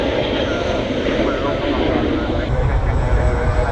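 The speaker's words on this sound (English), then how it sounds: "Another Ryanair taking off it." A Ryanair jet airliner takes off from Manchester Airport's runway 23R, its engines a loud, sustained roar throughout, with a person talking over it.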